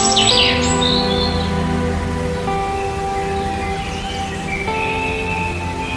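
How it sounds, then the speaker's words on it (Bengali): Unidentified wild birds call in a tall sal forest beside a narrow paved road, with a few brief high chirps near the start over a sustained tonal background. "এই যে নাম না জানা পাখির ডাক আর বনের এই গভীর নিস্তব্ধতা"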